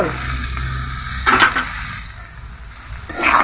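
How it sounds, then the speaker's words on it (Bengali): Sponge gourd sizzles in spices in a hot pan while a spatula stirs it, with steady frying crackle and two louder scraping sweeps. "ছুনির সাহায্যে এভাবে নাড়াচাড়া করতে হবে এভাবে ছুনির সাহায্যে ধুন্দরগুলোকে"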